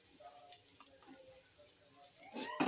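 Egg chutney sizzles quietly in a pan with a little oil as it is stirred, giving a soft, steady frying hiss with light scraping that swells and grows louder near the end.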